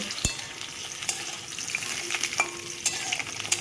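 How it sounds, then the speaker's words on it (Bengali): Potato pieces frying in oil with bay leaves and whole cumin, a dense close sizzle running throughout with a few sharp clinks and scrapes of a spatula in the pan. "আমি লম্বা লম্বা করে আলু কেটে রেখেছি সেই আলুর টুকরোগুলোকে আমি ভেজে নেব"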